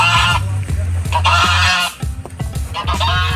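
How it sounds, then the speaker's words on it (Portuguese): Geese at a prison perimeter honk loudly and repeatedly, several birds calling over one another in harsh, overlapping bursts close by. "se alguém se aproxima, eles fazem um escândalo"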